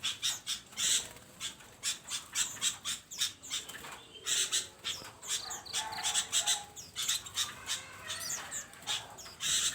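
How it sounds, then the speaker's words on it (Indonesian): Perci birds squawk and chirp in an outdoor aviary in Jombang, East Java, a busy stream of sharp, loud, repeated calls from several birds close by, with no talking. "Ini burung perci."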